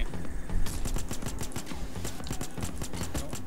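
Automated turret in Payday 2 fires rapid bursts of gunfire, loud and close, with sharp repeated cracks in an uneven rhythm.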